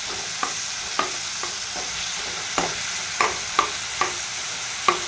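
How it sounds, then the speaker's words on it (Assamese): Bananas frying in ghee on medium flame while a spoon stirs them, with a steady sizzle throughout and sharp, regular scraping clinks of the utensil against the pan about once a second. "প্ৰায় 7-8 মিনিটমান আপোনালোকে এনেদৰে কলখিনি ঘিউতে ভাজি থাকিব।"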